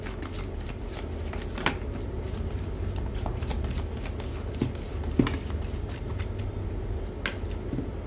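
A deck of tarot cards is shuffled by hand, a close, continuous soft riffling and sliding with a few sharper card snaps over several seconds.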